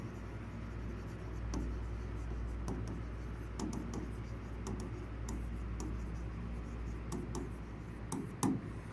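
Pen scratching steadily across paper while writing out a formal letter, a continuous close scrape broken by sharp little ticks and strokes, with no talking over it.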